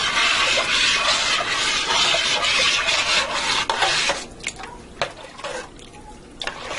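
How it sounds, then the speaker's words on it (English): Beef barley soup is stirred in a pressure cooker, a close scraping, rubbing swirl of spoon against pot that turns into irregular sloshing scrapes and taps in the second half. "now I'm going to stir this up and taste that"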